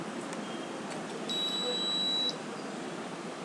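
A small electronic buzzer on an IR-sensor hobby circuit sounds a steady high-pitched tone for about a second after a hand is placed in front of the sensor, against a faint room hiss.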